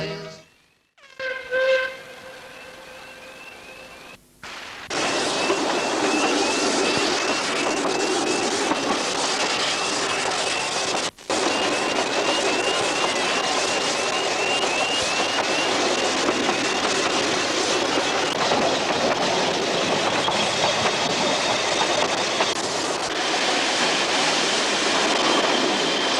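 A Ffestiniog Railway narrow-gauge steam train runs on its rails in the mid-1980s. Brief tonal whistle-like notes come first, then a loud, continuous rumble and rattle of the moving train dominates until the end.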